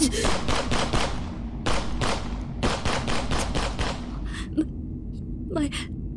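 Rapid bursts of gunfire in a dramatized confrontation, loud volleys firing in clusters with short pauses, while voices cry out and speak over the shots.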